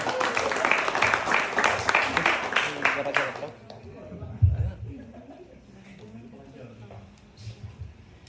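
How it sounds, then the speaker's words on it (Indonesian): A room of trainees at a Bali Tropical training session claps for their coach, a lively burst of applause that fades after a few seconds, leaving quieter murmuring and voices. "tepuk tangan buat Coach Arnold"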